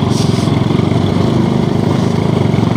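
Motorcycle engines running through flooded Hyderabad streets after heavy rain, a steady close putter with a rapid regular pulse, droning without pause for the short stretch.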